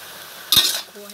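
Shrimp stir-roasted in a pan: one short scrape and sizzle burst over a quiet hiss.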